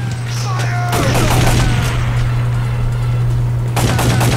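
Gunshots in Time Crisis on the PS1, a loud, continuous burst of rapid game gunfire and impacts that runs nearly unbroken over a steady hum.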